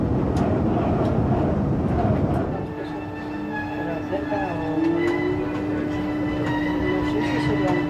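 A Renfe Cercanías commuter train equipped with LZB passes through Barcelona's Sants station, its loud rumble easing into a steady rolling hum with faint squealing tones, and no talk over it.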